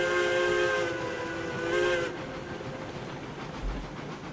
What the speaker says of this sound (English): Plenty of power in this locomotive